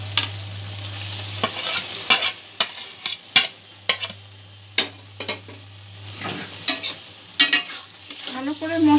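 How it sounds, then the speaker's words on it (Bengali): Chicken stirred into cooked spice masala in a pan, with repeated scraping stir strokes over a steady sizzle, close and fairly loud, no talk. "ভালো করে মশলার সঙ্গে মিক্স করে নেব।"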